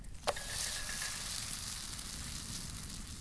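Food sizzling in a fry pan over a campfire, a soft, steady frying hiss that follows a single sharp clink of the pan at the start.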